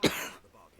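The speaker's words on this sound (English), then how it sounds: "I hope the audience really likes all these coughs." A single short cough with a throat-clearing rasp, close and fairly loud, fading quickly into quiet room tone during a casual gaming session.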